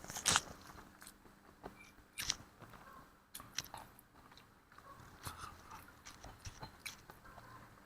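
Close, faint chewing of grilled, charred fish, with soft irregular bites and crunchy crackles spread across a quiet background.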